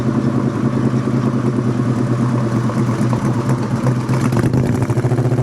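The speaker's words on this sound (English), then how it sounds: "Exhaust sounds really nice." A loud, close 1969 Plymouth GTX engine idling with a deep, lumpy exhaust burble, steady throughout, with a slight rev near the end.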